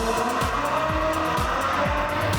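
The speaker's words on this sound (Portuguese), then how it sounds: "O espaço é dedicado exclusivamente ao som do ronco dos motores." Race car engines roar loudly and continuously in an automobile exhibition room given over to engine sound, their pitch repeatedly revving up and dropping in quick cycles with no voices.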